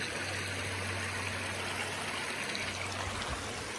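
Mountain stream water flowing in a continuous, even rush with a steady hiss and trickle, close and fairly loud, alone without voices.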